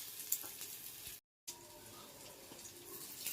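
Egg porutu scramble frying on low flame in a pan, a soft steady sizzle with faint crackles, broken by a short silent gap midway.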